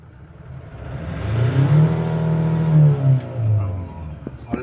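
A Ford engine at cold start with a rough idle and erratic RPM revs up and surges unevenly for a few seconds, then settles, loud and close.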